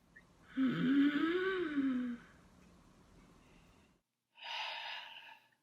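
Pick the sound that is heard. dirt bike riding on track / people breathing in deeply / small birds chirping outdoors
people breathing in deeply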